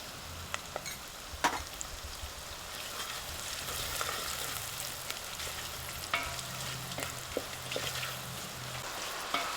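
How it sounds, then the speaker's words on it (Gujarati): Chilies frying in oil in a pan, a steady close sizzle with scattered pops and crackles and occasional sharp clicks, continuous throughout with no talking. "આપણે થોડાક મરચાં તળાઈ જવા દઈએ"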